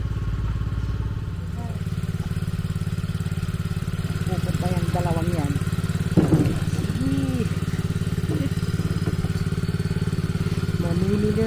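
A motorcycle engine runs at a steady low idle throughout on a farm, with a dull thump partway through and people chatting over the drone.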